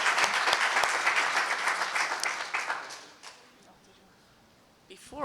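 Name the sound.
audience applause for congressman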